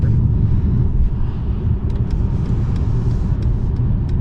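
A 2021 Mercedes E-Class facelift driving on the road, heard from inside as a steady low rumble of engine and road noise with faint ticks, continuous and fairly loud.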